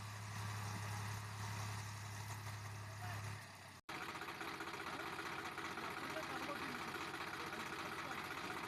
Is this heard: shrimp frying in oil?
no